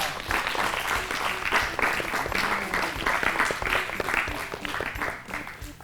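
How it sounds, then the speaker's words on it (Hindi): Loud, sustained audience applause at a quiz-style children's show, a dense continuous roar of many hands clapping together for several seconds. "बिल्कुल सही जवाब, जोरदार तालियां"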